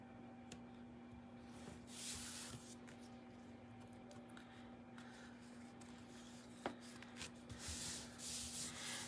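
Small eraser rubbed back and forth to lift glue off a greeting card, faint rhythmic scrubbing strokes over a low steady background hum.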